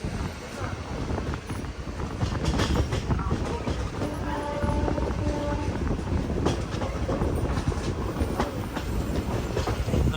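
A passenger train on the Hampi to Hubballi line rolls along with a steady, loud rumble and rhythmic clickety-clack of wheels over rail joints, with wind buffeting the microphone throughout.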